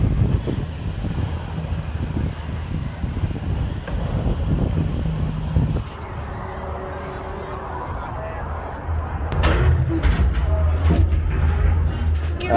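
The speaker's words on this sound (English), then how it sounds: "Pretty windy up here today." Wind gusting across an open spot at the zoo, a broad steady rushing roar that buffets the microphone, with people talking over it before it eases and then picks up again.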